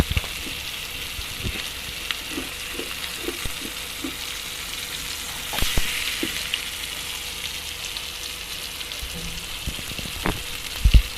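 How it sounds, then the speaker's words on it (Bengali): Hilsa fish frying in oil in a clay pan over a stove fire: a steady, soft sizzle runs throughout, with occasional small pops and clinks of utensils, and no talking. "সব মাছগুলো আমি কড়াইতে বসিয়ে দিয়েছি ভাজার জন্য।"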